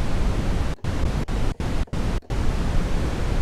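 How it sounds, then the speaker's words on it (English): Red noise, a noise waveform weighted toward the low end, from a Dave Smith Instruments Pro 2 synthesizer: a steady broadband rush cut by five short, sharp dropouts at uneven intervals, with no voice. "Red noise is noise with an emphasis in the low end."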